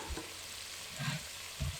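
Quiet sizzling in a pan of beetroot and potato, with a few soft scrapes of a spoon stirring, spaced irregularly, close and low in level.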